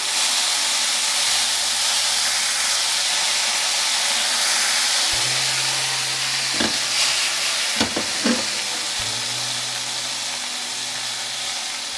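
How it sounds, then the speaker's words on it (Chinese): Shucked oysters pan-fry in a hot pan as seasoning sauce is poured in, making a loud continuous sizzle and hiss with a few sharp spattering bursts partway through, with no voices. "煎至两面金黄，差不多熟了以后，我们加点刚好调好的料汁里面"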